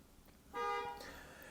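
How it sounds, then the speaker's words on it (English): Car horns honking outside on a New York City street give one short, faint toot about half a second long, heard from a distance. "Listen to the horns outside, New York City."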